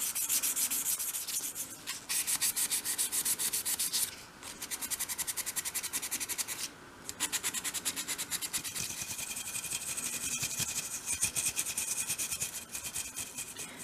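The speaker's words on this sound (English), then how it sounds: "I'm now using a piece of 500 grade sandpaper just to very gently sand the" Someone gently hand-sands a first coat of dried paint with 500 grade sandpaper on a dolls house arched window, giving steady, fast, rhythmic rubbing strokes up close with two brief pauses and no talk.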